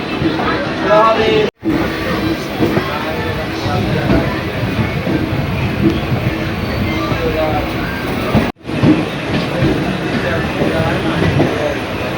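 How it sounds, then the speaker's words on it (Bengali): Passenger train running along the rails after departing on time, a continuous loud rumble and rattle inside the carriage, with people talking over it. "ইতিমধ্যে আমাদের ট্রেনটি গতিবেগ নিয়ে নিয়েছে"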